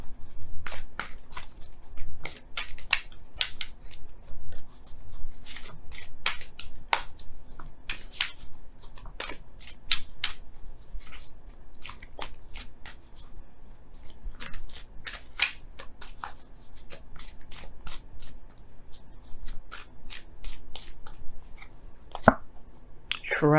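Romance Angels tarot cards are shuffled close by in a steady run of crisp riffles and papery slaps that lasts throughout, with no voices.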